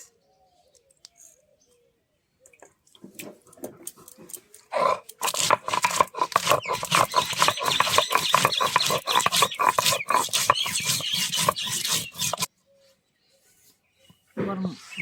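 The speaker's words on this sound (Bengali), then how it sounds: "এবার আমি গরম মশলা বেটে নিব।" Garam masala spices, cardamom, cloves, black pepper and black cardamom, are ground on a grinding stone, making a dense run of rough scraping and rubbing strokes for several seconds, with quiet pauses before and after.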